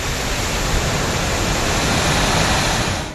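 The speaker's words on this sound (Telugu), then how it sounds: "ఇడుక్కిలోని కల్లార్కుట్టి డ్యాంకు వరద పోటెత్తడంతో అధికారులు గేట్లు ఎత్తి నీటిని విడుదల చేశారు." Floodwater released through the opened gates of Kallarkutty dam in Idukki, a loud continuous roaring rush of water, steady and unbroken with no voices.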